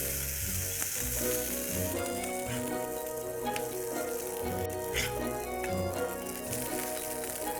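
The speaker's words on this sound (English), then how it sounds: "Allow this to cook on the second side for precisely 30 seconds." An uttapam cooks on its second side with a few drops of ghee, giving a steady, close frying sizzle that runs throughout, with occasional faint crackles and no talking.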